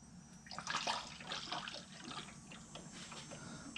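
Coolant fluid poured into the cooling system of a Polaris General XP 1000 during a thermostat replacement gurgles and splashes faintly in a steady, close trickle for a few seconds.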